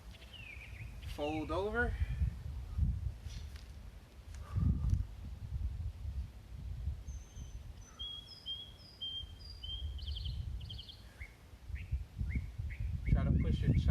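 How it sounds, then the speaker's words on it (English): Birds chirp and trill outdoors in the background while a person speaks calmly in the foreground. "Hopefully you guys can hear the birds."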